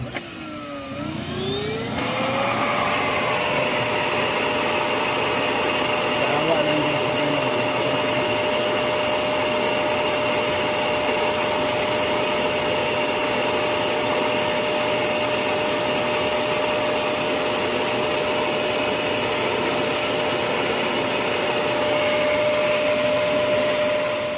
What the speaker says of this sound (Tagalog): luma na itong vacuum namin napuno na ng alikabok, so just hope na gumagana ito